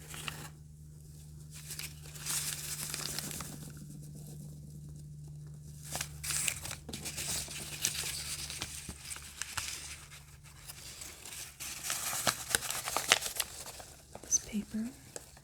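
Wrinkled 1976 newspaper scraps being handled up close, with soft crinkling, rustling and tearing in bursts amid quiet pauses, under intermittent whispering.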